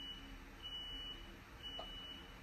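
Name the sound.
alarm beeping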